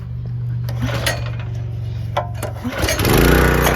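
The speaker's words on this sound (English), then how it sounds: "this thing actually starts pretty easy" A small gas engine on a Harbor Freight Predator 3200 PSI pressure washer is pulled a few times, sputters, then catches and roars to life, loud and close.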